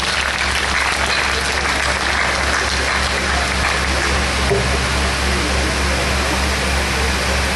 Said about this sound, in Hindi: आप तालियों से इस्तक़बाल।